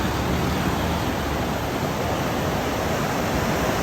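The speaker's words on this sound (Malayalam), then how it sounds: "മനോഹരമായിട്ടുള്ള വെള്ളച്ചാട്ടം" Steady broadband rush of a waterfall beneath Chamravattom Bridge in Malappuram, Kerala, loud and continuous without a break, with no voices over it.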